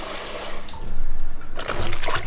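Water runs close by from a tap, splashing and gurgling as it pours over frozen raw dog food to soak it before microwaving. The flow is loud and steady for a couple of seconds.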